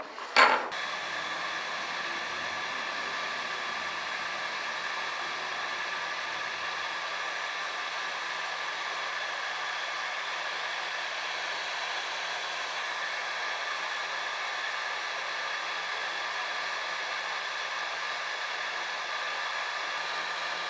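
A heat gun blows steadily to warm hardline watercooling tubing for bending, a constant close airy hiss with a faint click at the start, running unchanged and alone for about twenty seconds.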